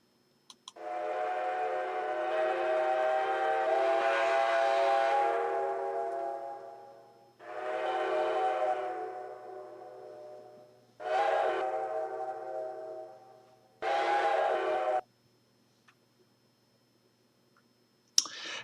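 A model train quillable whistle from a PS3 locomotive sound decoder, played as ADPCM audio, blows four times, one long blast then shorter ones, each tone fading, followed by a few faint clicks.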